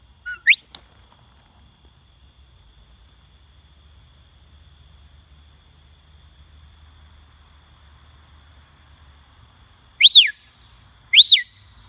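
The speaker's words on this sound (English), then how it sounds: "I can also use a whistle. I have a whistle command that corresponds to all my voice commands." A shepherd's herding whistle commanding a border collie: one short rising-falling blast at the start, then two sharp sweeping whistles near the end, loud and clear over an otherwise quiet outdoor background.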